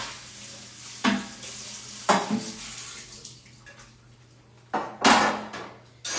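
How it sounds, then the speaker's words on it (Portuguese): Dishes, pots and pans being washed at a home sink, with a steady background hum and several loud clattering bursts of running water and clinking spaced a second or two apart. "Essa louça que não termina."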